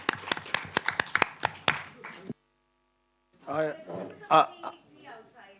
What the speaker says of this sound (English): And a big clap.